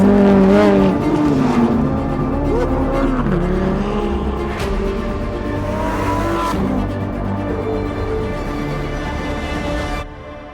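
Lamborghini Huracán Sterrato driven hard on gravel, engine roaring and revving loudly with pitch rising and falling through gear changes, heard close and continuous.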